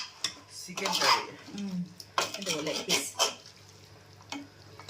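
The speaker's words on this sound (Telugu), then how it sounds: "మా మమ్మీ కలుపుతుంది చికెన్ కర్రీ" Chicken curry being stirred in a pot at home, a spoon scraping and clinking against the metal in several bursts with quieter stretches between, close and clear.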